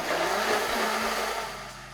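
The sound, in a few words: blender blending cauliflower with milk and garlic powder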